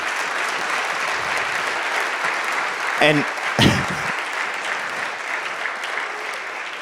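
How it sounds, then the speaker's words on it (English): Audience applause for a panel at a church conference fills the whole stretch as a steady, dense wash, with a brief voice breaking in partway through. "Please give a round of applause for these men."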